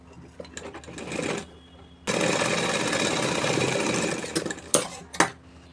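A sewing machine stitches buckram onto the reverse side of a suit collar, running in a steady burst of close, rapid clatter for about two seconds after a short earlier run, then stopping with a few clicks.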